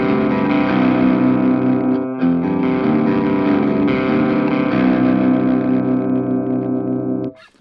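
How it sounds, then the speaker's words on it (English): A Telecaster's bridge humbucker, tuned to drop C and played through a Marshall Valvestate amp, rings out in loud, heavily distorted chords with effects. It is sustained and dense, with a brief break about two seconds in, and ends abruptly. "So in the back bridge position with the humbucker fully on, it sounds something like this."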